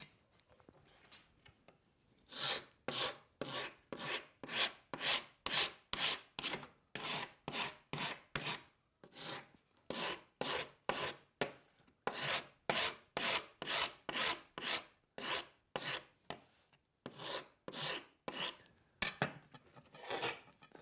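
Steady, rhythmic rasping strokes of a file on a hardwood footing of a traditional archery arrow shaft, close and clear, dozens of back-and-forth passes with brief pauses and no talking.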